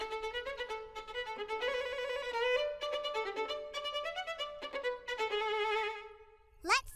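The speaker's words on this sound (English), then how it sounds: "The buoys on the map sound like this." Cartoon ocean buoys sounding a bright, bell-like melodic tune, a quick run of tonal notes played alone at low volume, ending with a short rising swoop.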